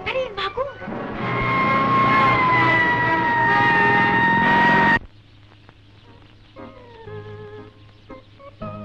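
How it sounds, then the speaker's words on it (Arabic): An alarm siren from a 1955 black-and-white Egyptian film wails loudly in a sustained steady tone for several seconds, then cuts off abruptly, leaving quieter film soundtrack with brief sounds. "دي صفارة الإنذار"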